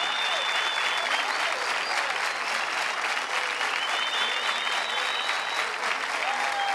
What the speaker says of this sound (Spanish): a nuestro histórico manager, Noel Areas, para el cual pido un minuto de aplauso.